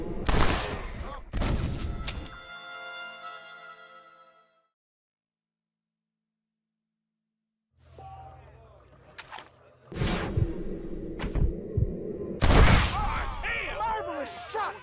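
Gunfire in the Red Dead Redemption video game: several loud, sharp shots at the start, then a few more near the end, mixed with music, and a stretch of near silence in between.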